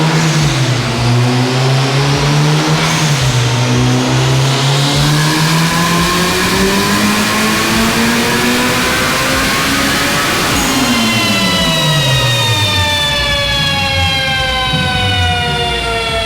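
Turbocharged 600-horsepower engine in a 1992 Honda Civic EG hatchback, revving loud and close: a sustained, rising and falling engine whine with smooth pitch sweeps, heard alone without talk.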